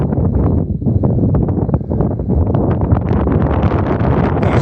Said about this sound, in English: I don't imagine much of this will be heard in the wind, but it's on the wind.